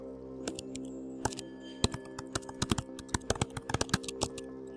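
Typing on a computer keyboard while entering text in Microsoft Word, a steady run of close, crisp key clicks in uneven bursts over a faint background hum, with no voices.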